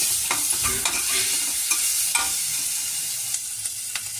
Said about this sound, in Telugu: ఇలా ఆనియన్ ఫ్రై అయ్యాక గ్రీన్ చిల్లీ కూడా ఫ్రై చేయాలి